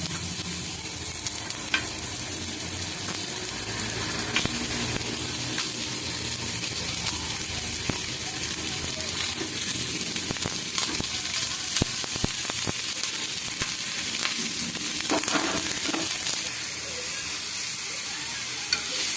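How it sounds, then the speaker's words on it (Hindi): Onions sizzle on a hot pan while being lightly cooked for a homemade Domino's-style burger. A steady, close frying hiss runs throughout, broken by scattered crackles and spatula stirring. "तो अब हम इसमें थोड़ा सा ऑनियन सेक लेंगे। ऑनियन को हल्का हल्का हम इसके ऊपर सेकेंगे।"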